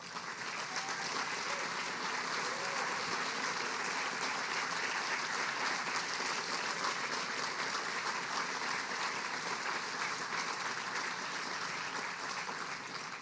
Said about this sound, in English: if all of our team from NCSSM could please stand just for a round of applause